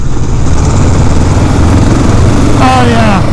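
Kawasaki Vulcan 650 and Honda Rebel 500 motorcycles pulling away from sixth gear, a loud steady engine drone with wind rumble and a rising whine near the end, with voices over it.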